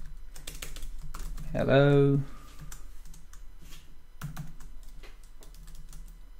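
A computer keyboard clatters with quick irregular keystrokes at a modest level, interrupted by a short spoken greeting partway through.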